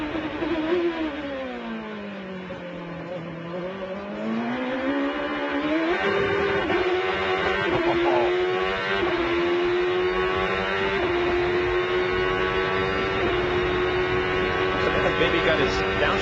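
A CART race car in qualifying at Montreal dropping through the gears into the hairpin, its engine note falling then climbing again as it exits, loud and continuous under a commentator's voice.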